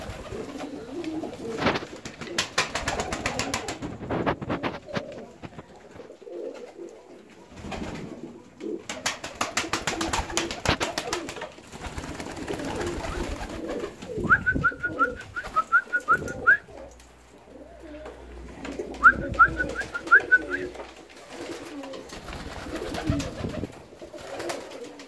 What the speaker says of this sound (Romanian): Toți porumbeii îmi sunt dragi, toate rasele pe care le crez la volieră.